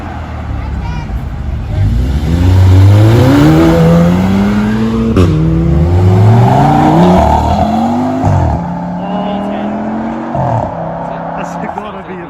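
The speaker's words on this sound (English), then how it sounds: "Lambo and Audi make some beautiful engines" Lamborghini and Audi engines rev hard at a car meet, loud rising and falling sweeps as the cars accelerate past, with crowd chatter and voices underneath.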